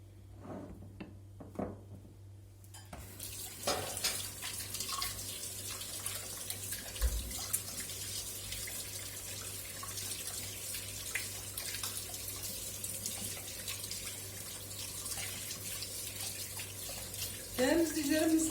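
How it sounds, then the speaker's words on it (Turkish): Hands are washed under a running kitchen tap, giving a steady close stream of water with splashes that runs for most of the time after a few quiet knocks, and a louder splash near the end. "Öncelikle elimizi yıkayalım arkadaşlar."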